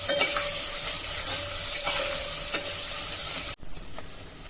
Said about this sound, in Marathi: आता हा कांदा आपण 2 मिनिटांसाठी जरा परतून घेऊ।